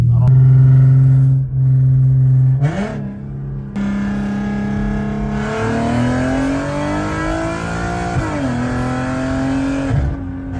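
A tuned car's engine revving hard while driving, a loud, steady drone climbing in pitch as it accelerates, with brief shifts and dips, heard close from inside the cabin.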